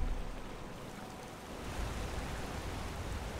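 A waterfall in Skyrim Anniversary Edition gives off a steady, fairly quiet rushing roar of falling water that holds at an even level throughout, with no voices over it.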